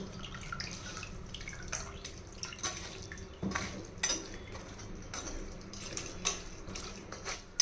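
Water drips and trickles in scattered, irregular bursts while fruit pulp is squeezed by hand for juice, with faint clinks of a container, close and fairly quiet.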